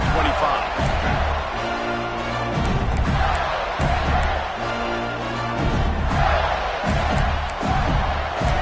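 Stadium crowd roar from the College Football 26 video game, a loud continuous wash of massed voices with swelling surges, heard between drives after a score.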